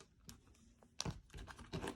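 Tarot cards being shuffled, heard as quiet, close papery riffles and crinkly flicks in a few short bursts against a hushed background.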